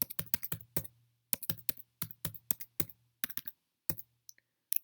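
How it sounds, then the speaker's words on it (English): Quick clicking keystrokes on a computer keyboard as an email address is typed, close and fairly quiet, in uneven bursts with short pauses and no talking. "Here I'm going to write down my email."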